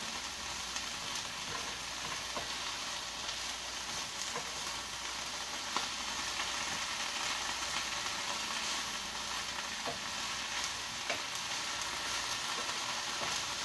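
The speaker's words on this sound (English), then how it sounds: "I'm sauteing the greens." Collard greens sauté in a hot pan, giving a steady, even sizzle that holds quietly and unbroken throughout with no talking.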